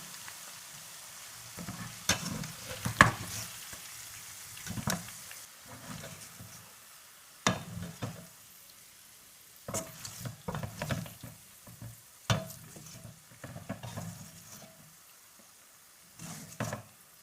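Pieces of chicken fry in hot oil with green chillies and curry leaves for a Kerala-style instant chicken fry. Gentle sizzling runs underneath, broken by intermittent scraping stirs of a spoon in the pan.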